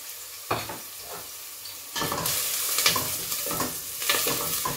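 Carrots and garlic fry in hot oil with a loud, steady sizzle, while a spoon stirs and scrapes against the pan in repeated bursts.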